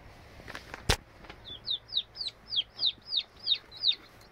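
A sharp knock, then a run of about nine regular, high, rising calls from a nearby chicken, repeating evenly over quiet background noise.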